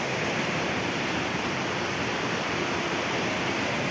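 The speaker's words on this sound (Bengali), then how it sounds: "এই যে নদীর গুলুগুলু আওয়াজ" Little Rangit river flowing in the Darjeeling hills, a steady broadband rush of water that holds constant and close for the whole stretch, with no voices over it.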